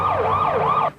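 A police car siren wails loud and close, its pitch sweeping up and down in quick repeated cycles for about a second before it cuts off abruptly.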